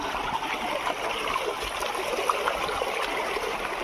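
Steady rushing of flowing river water, a continuous broadband wash with no voices.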